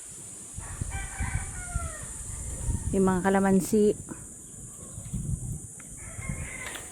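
Roosters crow on a Philippine farm lot, a single crowing call rising clearly mid-clip over steady rural background noise, with a person talking around it.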